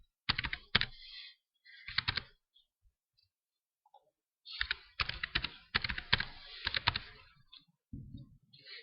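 Password being typed on a computer keyboard: bursts of close, crisp key clicks in quick rhythmic runs, with a pause in the middle before a longer stretch of typing.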